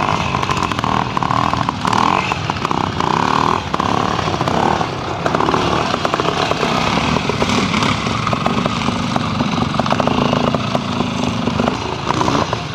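A 250 James motorcycle climbs a hill at an outdoor hill climb, its small two-stroke engine buzzing loud and close throughout, the revs rising and falling as it works up the slope, with no voices over it.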